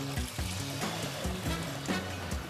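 A litre of water pours in a steady, even stream, close and fairly soft, with no voices.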